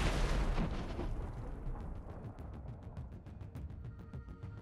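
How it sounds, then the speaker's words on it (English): A loud blast of exploding howitzer ammunition opens, then crackling pops and bursts continue as the ammunition cooks off, fading slightly over several seconds. "The howitzer was powerfully destroyed by the explosion of the ammunition inside."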